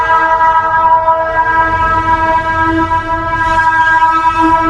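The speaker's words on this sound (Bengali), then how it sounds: "আমাদের ট্রেন কিন্তু এখন ঢুকছে থানা জংশনে" The Howrah-Mokama Express pulls into a junction at night, sounding a loud, sustained, steady horn close by over the low rumble of the moving train.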